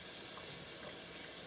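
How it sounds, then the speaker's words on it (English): Tap water runs steadily into a sink in a home kitchen, a continuous soft hiss and splash with no voices. "start letting some water run in there"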